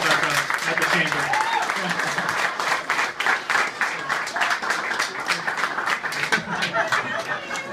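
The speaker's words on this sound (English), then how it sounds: "I think she deserves a round of applause" Applause from a gathered crowd at an after-hours chamber event at a Hyundai dealership, continuous clapping with some chatter mixed in.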